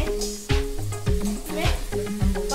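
Spices being stirred in a hot cooking pan during a student cooking competition: a close sizzle with rhythmic scraping strokes about every half second, a faint voice and a low hum underneath.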